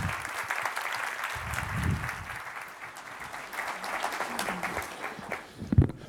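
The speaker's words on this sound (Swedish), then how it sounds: "Vi ger honom en varm applåd." Warm applause from a conference audience greets Sweden's defence minister as he takes the stage, a steady mass of clapping filling the hall for several seconds with a few louder claps near the end.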